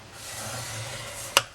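Cardstock is scored for a Christmas tree treat box, giving a steady soft rasping drag for over a second that ends in one sharp close click.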